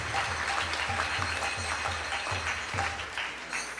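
Audience at a Sunday temple program giving a round of applause for the cooks and kitchen team, steady clapping from a modest crowd lasting several seconds at moderate volume.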